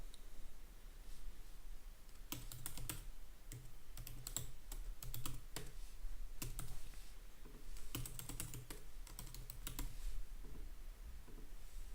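Someone types a username on a computer keyboard, quick bursts of close, soft key clicks separated by short pauses, with no one talking.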